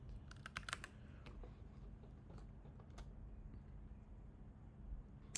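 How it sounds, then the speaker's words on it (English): Quiet typing on a computer keyboard: a quick burst of close key clicks at the start, then sparser taps over a faint background hum. "let me just type it"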